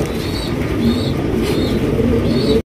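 A grizzle-coloured Budapest pigeon coos repeatedly in steady, low rolling phrases against a busy bird-market background of other pigeons and murmur, close and fairly loud, cutting off abruptly at the end.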